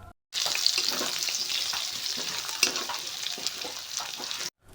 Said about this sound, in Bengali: সেদ্ধ করে রাখা আলু হালকা করে প্রথমে ভেজে নেবেন।